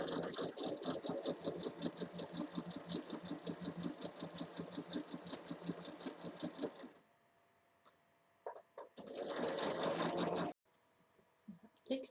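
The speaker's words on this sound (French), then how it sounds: "on va venir piquer sur toute la hauteur en rejoignant bien le point" A sewing machine stitches up the side seam of a square fabric bag, a fast, steady mechanical chatter for about seven seconds, then near silence with small handling noises before a second short burst of stitching.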